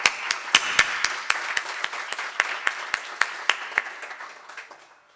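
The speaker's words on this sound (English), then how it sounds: "Applaudissons chaleureusement nos invités d'honneur, s'il vous plaît." Audience at a graduation ceremony in Montreal clapping for guests of honour: sharp, fairly close claps over a steady patter of applause that slowly fades out.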